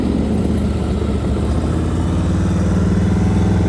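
Motorcycle engine held at slightly elevated revs during slow-speed riding practice, a steady, close, continuous drone with a faint rhythmic pulse and no talking.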